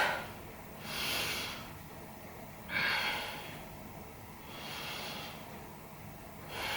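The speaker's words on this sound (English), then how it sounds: "Take 3 big breaths" Several slow, deep breaths taken during a yoga stretch, each a soft airy whoosh with even pauses between, close and fairly quiet, with no talking.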